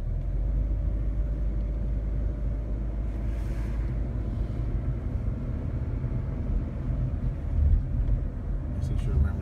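A car drives through the streets of Gardena, its engine and tire rumble a steady low drone with wind noise throughout, and a brief swell near the end.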